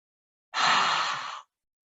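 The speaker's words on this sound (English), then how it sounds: "the tongue sticks out, and you take 5 forceful exhales" One forceful open-mouthed exhale with the tongue out during yoga breathing, a breathy rush of air close by lasting about a second, then silence.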